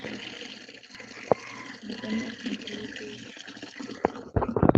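Water runs steadily at a moderate level as a container fills, with a few sharp knocks and clatters near the end.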